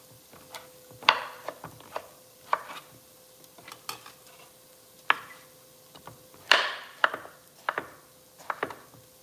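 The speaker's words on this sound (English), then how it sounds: "So here is the roasted butternut squash. I'm going to chop this." Knife chopping roasted butternut squash on a cutting board: irregular, close knocks and cuts, some sharper and louder than others, spread across the clip with no talk.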